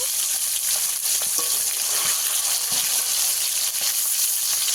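Fresh pond-caught rohu-type fish fries in hot oil, a dense, even sizzling hiss throughout with faint scattered pops and soft stirring.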